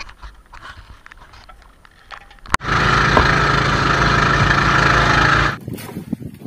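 A small fishing boat's engine on a tuna fishing trip is pulled over and catches with a sharp onset, then runs loud and steady for about three seconds before dropping back to a quieter idle, following quiet background sounds.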